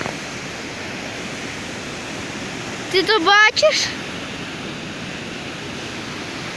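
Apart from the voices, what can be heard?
flooded mountain river rushing in the Carpathians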